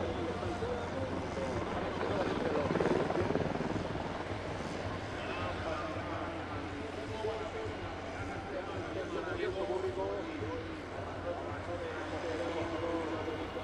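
Spanish military helicopter flying an airshow display, a steady rotor and engine drone filling the scene at moderate distance, heard continuously under a commentator's voice.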